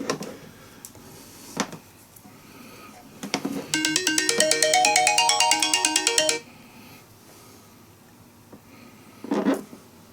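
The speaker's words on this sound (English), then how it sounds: "No phone calls today, guys." Phone ringtone playing a bright looping melody for a few seconds in a quiet workshop, loud and close, with a few clicks and small handling knocks before and after.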